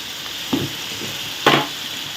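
Spices and tomatoes fry in a pan for a South Indian kuzhambu, a steady sizzle underneath with two louder bursts of hissing and stirring clatter, no voices.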